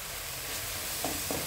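Turmeric frying in oil while laksa is being cooked, a steady close sizzle with faint stirring clicks near the end.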